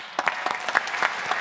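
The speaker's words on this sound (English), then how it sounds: "Round of applause for Raj." A burst of audience applause at a solar finance pitch event, dense and steady clapping from a crowd, sustained for a moment at moderate volume.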